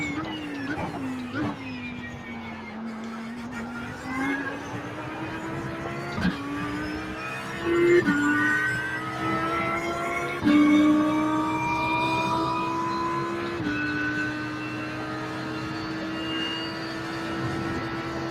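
Race car engine from a racing video game: a continuous whining drone with rising and falling pitch as the car shifts gears and brakes through corners on a lap, steady and loud throughout.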